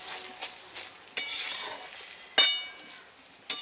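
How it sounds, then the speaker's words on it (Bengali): Banana stem curry fries in a pan and is stirred, giving a soft hiss with three louder bursts of spatula scraping and sizzle, close and fairly quiet, with no talking. "এবার সবকিছু নাড়াচাড়া করে দিয়ে আর একটু ঢাকা দিয়ে দেবো।"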